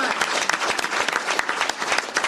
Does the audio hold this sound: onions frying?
no